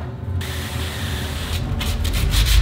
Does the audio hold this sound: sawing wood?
yes